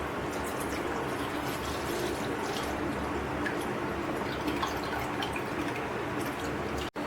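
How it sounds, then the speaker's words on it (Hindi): Fresh milk pours into a pan for khoya, a steady close liquid rush with soft dripping and splashing that runs throughout before a brief sharp clunk near the end, no talk. "यहाँ हम पैन में दूध को ऐड कर देंगे।"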